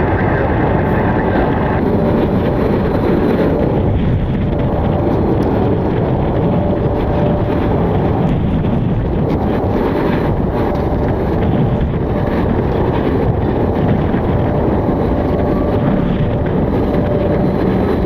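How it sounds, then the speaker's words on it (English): Strong wind blowing during snowfall at an airport, a dense steady roar buffeting the microphone throughout with no clear breaks. "As the wind and snow picks up a little bit."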